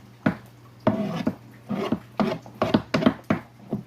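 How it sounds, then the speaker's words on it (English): Chopped white onion scraped into a pan with a knife or utensil: a series of short, close scraping and tapping strokes in an irregular rhythm, with no talk over it. "Now we got the white onion. We're going to scrape that in."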